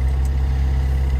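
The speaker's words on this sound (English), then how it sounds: "Turn the engine off so we can hear a bit better." A Mecalac 9MWR excavator fitted with an engcon EC209 tilt rotator idles with a steady, deep, even rumble, close and constant throughout, with no voices.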